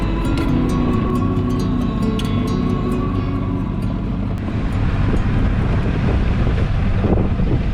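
Steady wind roars across the microphone over a low engine-like drone and rushing water aboard a sailboat heading out to sea from the Swedish archipelago, a continuous loud wash with no voices.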